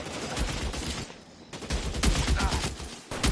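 Bursts of video game gunfire, dense rapid volleys broken by a short lull, loud and close, with a voice heard briefly among the shots.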